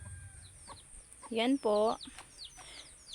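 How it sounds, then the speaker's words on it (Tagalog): Chickens on a rural Philippine farm cluck in short, close bursts, with two strong calls in the middle and fainter clucks around them, heard under a brief spoken remark. "At yung mga manok."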